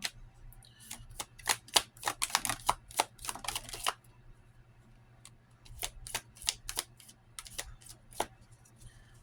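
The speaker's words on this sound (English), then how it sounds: "Just gonna shuffle through these real fast." Tarot cards riffle and flick in quick bursts of crisp snaps, pausing briefly before another run of shuffling.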